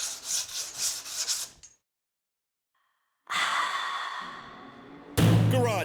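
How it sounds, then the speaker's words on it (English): Sanding a fiberglass front bumper for a Carrera RS in a garage during paint prep, with bursts of raspy rubbing strokes separated by a pause, close and fairly loud. "my favorite is sanding again"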